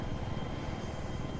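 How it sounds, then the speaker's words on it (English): A helicopter in the video game Battlefield 3 settles into a hover landing, its engine and rotor giving a steady, constant low roar with no breaks. "It's really easy to land helicopters, very, very much easier than jets."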